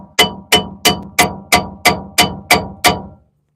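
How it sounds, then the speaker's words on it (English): Nine quick, loud metallic hammer blows drive a wrench onto a brake line nut on a rusty car, evenly spaced and close, with a short ringing tail after each strike. "also I don't recommend hammering a wrench onto a nut, but this is one of those kind of weird cases."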